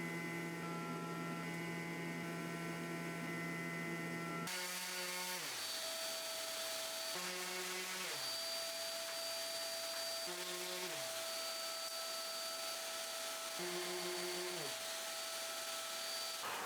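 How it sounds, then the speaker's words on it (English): Power tools cut and sand small keychain blanks in a workshop, a steady loud machine whine and hum running throughout, with repeated pitch drops as a motor spins down and restarts in cycles. "cutting one batch while sanding the previous one"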